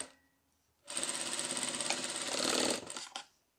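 Sewing machine stitching off-white satin fabric. A steady, fast mechanical chatter runs close for about two seconds, then stops with a few brief clicks.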